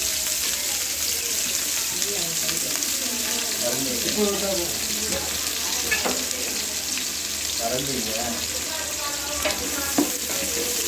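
Large onions sizzle in a pot as they fry for seeraga samba mutton biryani, with a steady hiss and occasional stirring scrapes, while someone talks over the cooking.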